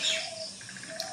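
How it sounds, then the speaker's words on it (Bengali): Birds call outdoors with thin chirps and a soft repeated trill, alongside a faint insect-like buzz in the background. "পাখি ডাকাডাকি করে যাচ্ছে"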